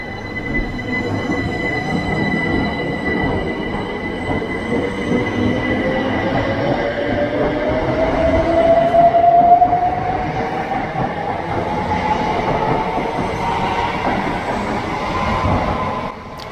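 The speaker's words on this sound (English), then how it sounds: "I watched the train depart as it made its way towards Shoeburyness" A c2c passenger train pulls away from Southend Central toward Shoeburyness, its broadband rumble steady and close with wheel squeal rising into a gliding tone midway, and no voices.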